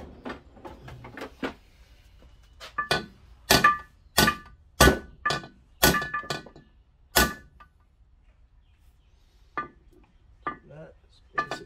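Sleeve being tapped into a wrecked Yamaha GP1300 motorcycle cylinder: a run of sharp metallic knocks, loud and close, at an uneven rhythm, with lighter taps before and after.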